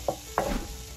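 Onions and paprika frying in a pan give a soft sizzle after two quick stirring clacks, close and quiet with no talk.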